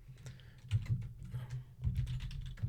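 Typing on a computer keyboard in a Linux terminal note-taking tool, with bursts of quick key clicks that pause around the middle and then resume, close and clear with no talk.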